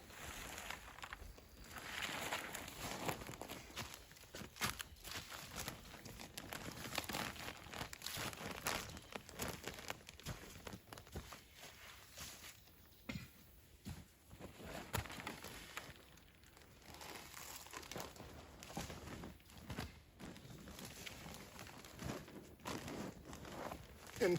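Duct tape is pulled and wrapped around insulation pieces outdoors for well freeze protection, making repeated crinkling, rustling and tearing sounds that are close but fairly quiet.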